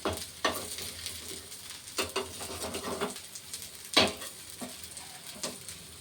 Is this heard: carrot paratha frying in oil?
yes